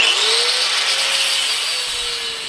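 Metal hooks for a blast furnace lid being cut off with a power tool, a loud continuous grinding hiss with a steady whine, close and alone.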